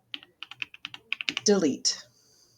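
Someone types a word into a web browser's address bar on a computer keyboard: a quick run of crisp, close key clicks that ends in a louder flurry, with a brief voice near the end.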